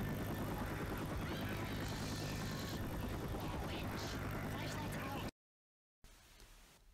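Helicopter from the video game Left 4 Dead 2 flying above a street, a loud, constant rotor drone sustained for several seconds before cutting off abruptly, with faint background after.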